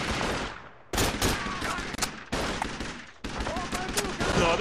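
Bursts of machine gun fire in the World War II shooter game Call of Duty: The Big Red One, loud and close, with sharp repeated volleys at steady intervals and overlapping gunfire throughout.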